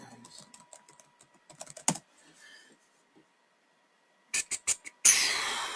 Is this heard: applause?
no